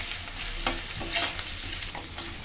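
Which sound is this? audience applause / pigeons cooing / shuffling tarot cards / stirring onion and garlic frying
stirring onion and garlic frying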